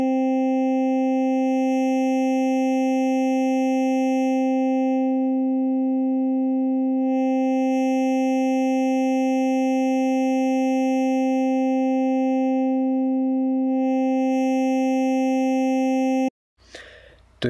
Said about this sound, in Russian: усиление или ослабление присутствия высших вот этих гармоник, что по результату дает более яркий или более унылый звук